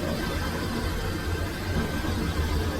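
A scooter engine pulling away in an animated horror story: a steady, dense motor drone with a low rumble that holds at an even level throughout, with no voices.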